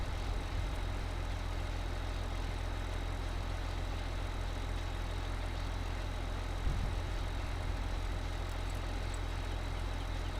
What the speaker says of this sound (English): we've got our other tractor going at the moment